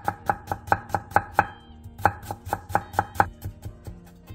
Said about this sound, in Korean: 당근 3장을 반으로 자른 뒤 짧게 채 썰어주세요.